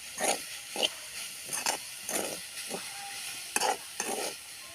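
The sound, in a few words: stirring and frying pumpkin leaves with coconut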